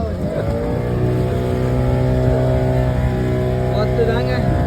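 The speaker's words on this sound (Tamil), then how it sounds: "அண்ணன் இப்பதான் வண்டி ஸ்டார்ட் பண்ணிக்கிறாரு. ஒரு யூட்டர்ன் போட்டிருக்காரு." A vehicle engine running and turning on sand during a trip to Ooty, a steady loud droning motor hum with someone talking over it throughout.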